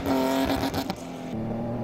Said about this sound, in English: Some over-revving early on,